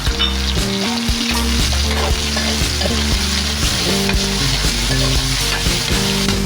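Onion and tomatoes for sinigang fry loudly in a pan, a dense continuous sizzle close up with scraping stirring knocks throughout and no talk.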